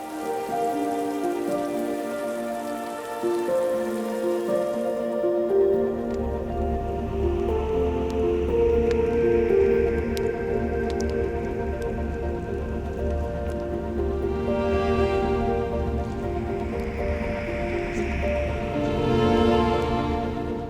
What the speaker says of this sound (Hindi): ये वाटरफॉल देखा, ये इतना छोटा है तो भी इसका फ्लो कितना जोर से आ रहा है